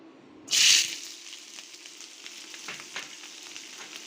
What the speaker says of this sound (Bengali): পেঁয়াজ কাঁচামরিচ 1 মিনিটের মতো ভেজে নিব।